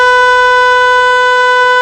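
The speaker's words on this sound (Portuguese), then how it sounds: "Este é o som da buzina com o carro parado." A single steady horn blast from a stationary car, loud and close, holding one unchanging tone for under two seconds with no other sounds.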